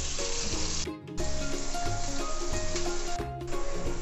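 A large onion frying in a pan until light golden brown for Hyderabadi arvi gosht, a steady close sizzle and hiss that runs almost without pause under background music.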